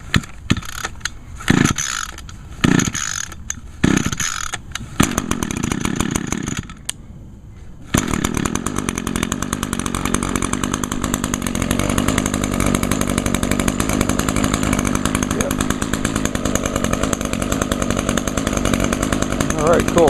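A recoil-start gas lawn trimmer engine is pulled several times in short bursts, then catches and settles into a steady, loud buzzing idle close to the microphone.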